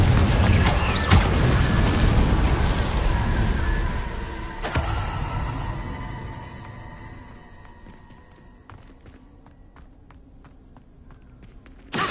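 A Confringo spell explosion in the Hogwarts video game bursts loudly, followed by a heavy rumbling blast and crashing debris that fade into quieter scattered clatters and a final sharp hit.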